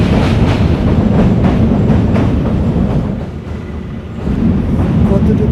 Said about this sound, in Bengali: এইটার আগে আপনার চিলাহাটি এক্সপ্রেস ট্রেনটা চলে আসে